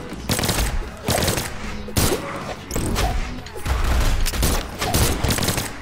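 Rapid gunfire bursts from the Brawlhalla fighting game, with weapon strikes and crashes layered in a busy, continuous stream of repeated shots and impacts.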